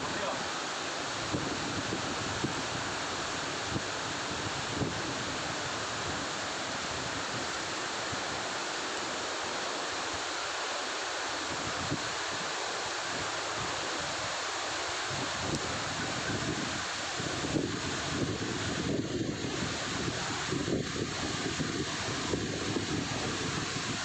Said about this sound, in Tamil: அருமையாக இருக்குது இந்த ஃபால்ஸ் இங்கே பார்க்குறதுக்கு.